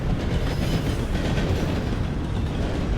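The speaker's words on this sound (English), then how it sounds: "supply train right here." Supply train passing in Red Dead Redemption 2, a loud continuous rumble of rolling rail cars with faint clickety-clack and a thin high squeal, steady and close for the whole stretch with no talking.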